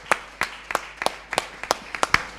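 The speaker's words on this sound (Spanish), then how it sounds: "Yo quiero un aplauso especial." Slow, regular clapping at a publishing and copyright conference: about nine sharp, distinct claps in a steady beat, fairly close and not swelling into full applause, against a quiet room with no talk.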